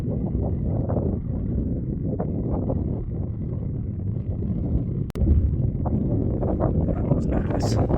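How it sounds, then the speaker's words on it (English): Wind buffets the microphone on a golf course with a steady low rumble and gusty rustling at hole 13, a par 4, continuing throughout with a sharp knock midway and speech faintly mixed in. "wind right into the face."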